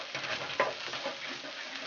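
Smoked garlic cloves frying in a paella pan, giving a soft, steady sizzle with a faint stir or tap partway through, quiet and alone.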